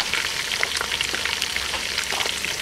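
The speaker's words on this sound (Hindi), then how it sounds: "पायों को आपने अच्छे तरीके से भूनना है कि इसकी जितनी भी स्मेल है ना वो ख़त्म हो जाए" Lamb trotters (paya) fry with spices in a pan, making a dense, constant crackling sizzle up close, with no talking.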